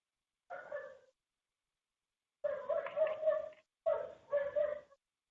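A neighbor's dog barks and yips in three short bursts, clear and fairly close, with no talking over it.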